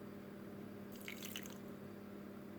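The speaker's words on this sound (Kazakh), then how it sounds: "Және де ішіне шамалы су құямыз." A small amount of water trickles briefly into a bowl of gelatin hair mask mixed with Pantene conditioner, a short soft splash standing out against a quiet room.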